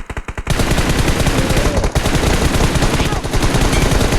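Rapid automatic gunfire in a video game, a loud dense burst after a brief lead-in, with steady repeating shots continuing to the end.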